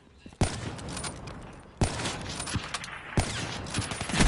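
Gunfire in Call of Duty: Black Ops 3 during a 1v1 match: three loud, separate shots about a second and a half apart, each followed by a ringing tail.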